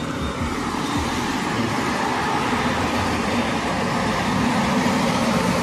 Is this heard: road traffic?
yes